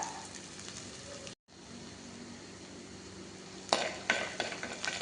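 Chopped ginger frying in a pan for a sardine chilli curry, a soft, fairly faint sizzle that cuts out briefly, then louder scraping stirs and clinks of a utensil toward the end, with no voices.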